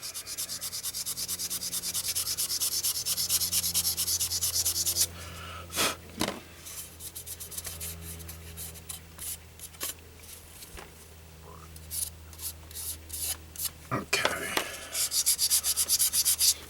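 Hand sanding of a primed car body panel on a 1969 Camaro or 1971 Mustang, a continuous rasping rub that breaks into short rhythmic strokes, close and moderately loud.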